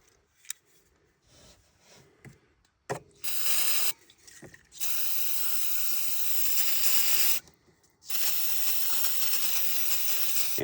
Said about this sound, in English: So we're going to do a quick spray out with some carb clean.